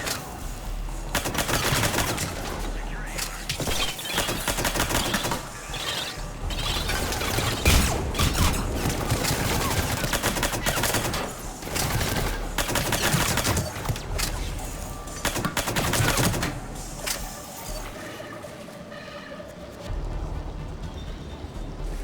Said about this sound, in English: Reports are coming in of gunfire on the Silver Sun Strip.